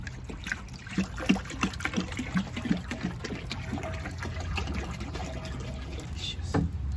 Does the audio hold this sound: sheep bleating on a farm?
no